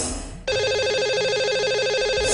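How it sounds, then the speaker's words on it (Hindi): A telephone ringtone for a radio call-in show's lucky-caller segment starts abruptly after a short lead-in and trills steadily, loud and alone, for about two seconds. "तो लगाते हैं अब कॉल।"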